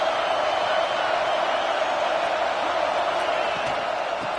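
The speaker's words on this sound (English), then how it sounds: "And here comes the noise. This crowd is trying to inspire this defense to make a big red zone stop." A football stadium crowd roars steadily to urge on the defense before a red zone stop, a dense, loud wash of cheering that holds at constant strength throughout without any break.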